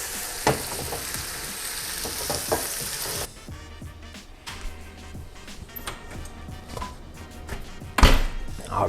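French toast bread frying in a pan, a steady sizzle with a few soft knocks and scrapes, a quieter stretch midway, then a sharp louder hiss as another slice goes in near the end.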